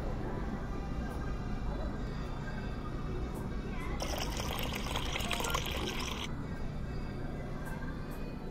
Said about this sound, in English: Pour it out into a cup and then we can serve it.